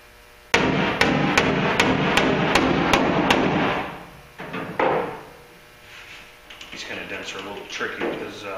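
A panel beater machine hammers a metal panel for a Duramax project, with a rapid series of about eight loud, evenly spaced metallic blows, then scattered lighter taps and shop noise.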